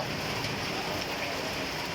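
Steady rain falls in a dense, even hiss, loud and continuous throughout with no other sounds standing out.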